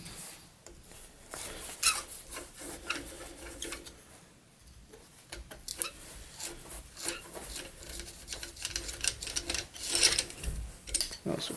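Long screws are worked out of the starter on a 1950s tractor left in the woods, with faint, irregular scraping, rasping and metallic turning clicks close by and no talk.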